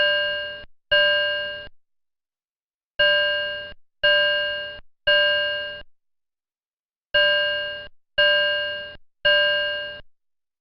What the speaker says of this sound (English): The Stage 2 alarm is a temporal triple bell.